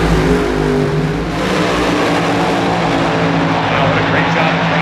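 A drag race car launches down the track during a Top Eliminator race in Boise, with a loud, sustained engine roar filling the air and a commentator talking over it throughout.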